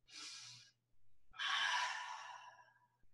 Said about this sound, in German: Wir atmen mit Genuss aus.